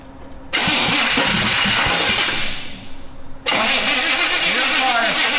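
A 1980 Chevy Blazer with a freshly swapped carburetor cranks and catches, its starter whirring into a loud engine roar, a brief dip, then a second hard crank and rumble, close up.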